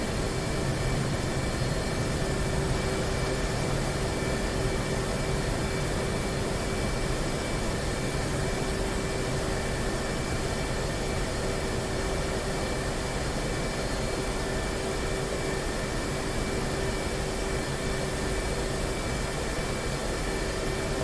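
F/A-18 Hornet jet engines spooling up on a supercarrier catapult in the flight simulator DCS World, a steady, loud, broadband roar with a constant whine, unbroken and unchanging throughout.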